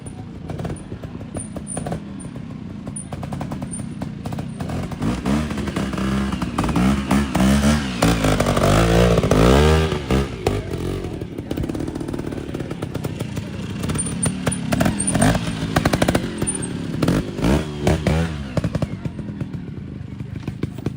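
A 250 dirt bike engine revs hard uphill and climbs in pitch at a trials event, a buzzing two-stroke whine that surges loudest midway and stays steady and close throughout.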